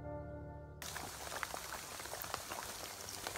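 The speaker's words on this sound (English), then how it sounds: "After many weeks without it, the arrival of rain is welcome." Rain arrives after weeks of dry weather. After a brief low tone, a steady, dense patter of raindrops begins and continues, close and fairly loud.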